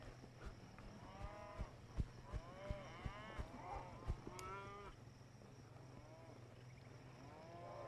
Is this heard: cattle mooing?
yes